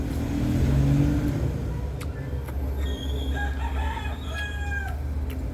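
A rooster crowing somewhere behind steady traffic and rain noise on a flooded road, the calls coming in the latter half over the continuous low rumble of passing vehicles.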